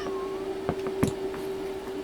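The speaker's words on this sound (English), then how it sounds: "So my cat is complaining" A cat meows a few times, short plaintive calls close by, with a steady electrical hum in the background.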